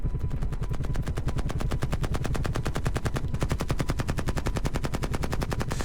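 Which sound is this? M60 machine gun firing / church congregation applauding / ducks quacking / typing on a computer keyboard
M60 machine gun firing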